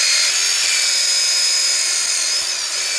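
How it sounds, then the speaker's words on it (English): A drill spinning a wire wheel against rusty sheet metal on a finger brake makes a loud, steady, high grinding whine that runs unbroken for about three seconds. "I'm taking wire wheel, and I'm going to wire wheel the whole thing clean"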